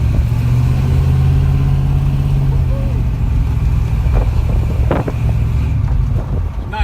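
A Ford Mustang coupe, white and blue, drives along with a steady low engine hum and road rumble throughout, mixed with wind noise and a few brief knocks, the engine note holding fairly constant.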